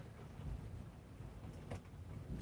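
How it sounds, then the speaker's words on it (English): Heavy rain falling outside, a faint, steady broadband wash with a low rumble underneath, continuous throughout with no voices. "It is full force raining outside now."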